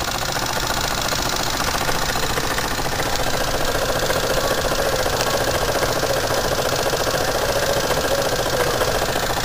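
A Jensen 20 toy steam engine runs steadily, with a continuous mechanical chugging and hiss from a double boiler holding pressure. The sound stays close and even throughout, with no talking.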